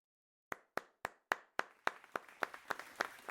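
A single pair of hands claps alone at a steady rhythm for an audience applauding a band, a dozen or so crisp, close claps after a moment of silence, gradually blurring together as the pace quickens slightly.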